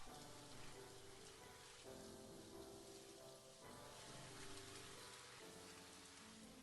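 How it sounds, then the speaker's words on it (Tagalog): Heavy rain falling outside, a steady dense patter on surfaces that holds as a faint, even wash throughout with no voices. "Ang lakas ng ulan sa labas."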